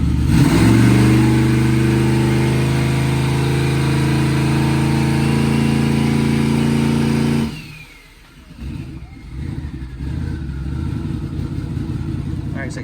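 A turbocharged car engine running nitrous on E85 fuel holds a loud, steady high rev for several seconds, then abruptly drops off and settles back to a rougher idle-like rumble, close and powerful.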